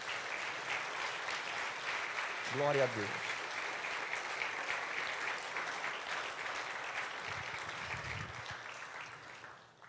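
A church congregation applauds steadily during a worship service, a broad wash of clapping that fades near the end while a voice briefly speaks over it.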